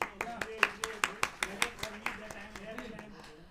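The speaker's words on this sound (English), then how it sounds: "A huge round of applause, please." Crisp, separate hand claps from an audience at a university event: roughly fifteen sharp claps in a quick, fairly even rhythm that thins out and fades toward the end, with faint murmuring beneath.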